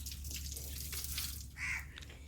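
Bore water runs from an outdoor borewell tap, a faint, steady splashing trickle with a low hum beneath and a brief brighter gush near the end.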